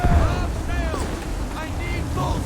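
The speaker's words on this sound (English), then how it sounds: "Heavy gusts, Captain!" Heavy wind gusts at sea in Assassin's Creed 3 make a loud, continuous low roar around a sailing ship, with churning water beneath and voices shouting over the din.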